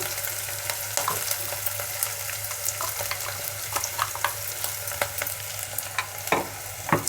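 Onions frying in a pan with ground green chili and fresh coconut added for a carrot coconut fry, a steady close sizzle broken by scattered crackles and stirring taps, with no talking.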